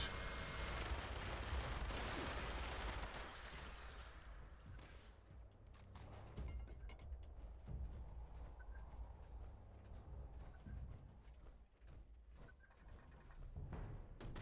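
Defensive turrets fire in Fallout 76 in dense rapid bursts, loudest at the start and then continuing in rattling volleys of varying strength over a busy low rumble.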